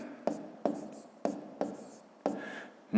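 Numbers are handwritten with a pen on paper during a fifth-grade arithmetic exercise: five short scratchy strokes in an uneven rhythm, close and clear, with quiet pauses between them.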